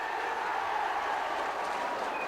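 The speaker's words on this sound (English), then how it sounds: "The crowd's finding the voices now." A rugby league crowd at the Hull KR v Whitehaven cup semi-final roars in a continuous, dense wash of cheering from the stands, steady and loud with no break.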